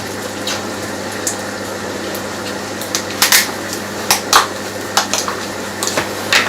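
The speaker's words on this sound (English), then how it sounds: "So our bacon has finally started sizzling" Bacon sizzles in a pan, a dense steady crackling hiss close up, broken by a few sharper pops and clinks of utensils toward the end; no speech.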